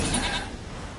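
A goat in the video game Witcher 3 gives a short bleat, loud and close at the very start, then it fades into a quiet hiss with no talking.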